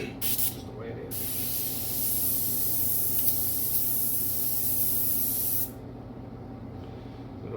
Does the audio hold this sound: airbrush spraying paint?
yes